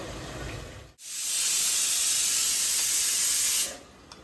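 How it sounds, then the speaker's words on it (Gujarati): Potatoes frying in oil: after a brief sharp knock, a loud, close, steady hiss of sizzling swells up and holds for about two seconds before cutting back to quieter background. "બટાકાને ફ્રાય કરે છે બા"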